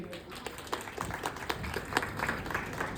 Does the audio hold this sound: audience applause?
yes